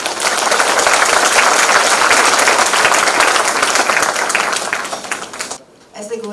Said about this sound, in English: Please join me in welcoming her with a warm round of applause.